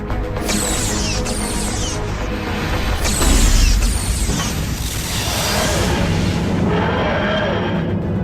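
Missiles launching and exploding in a Doctor Who audio drama, a series of loud whooshing booms with a heavy low blast near the middle and rumbling mechanical noise throughout.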